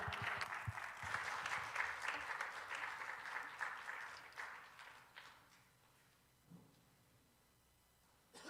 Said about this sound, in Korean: 우리 진영철 목사님 나오실 때 뜨거운 박수로 환영해 주시기 바랍니다.